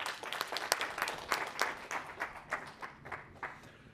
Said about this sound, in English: So, round of applause for Matthias.